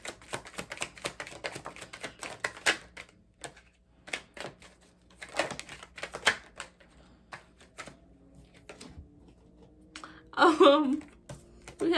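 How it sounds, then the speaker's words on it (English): Tarot cards shuffled by hand during a reading, heard as bursts of crisp, rapid papery clicking with short pauses between, close and fairly quiet, with a voice briefly speaking near the end. "I'm gonna pull some more tarot cards to try to clarify"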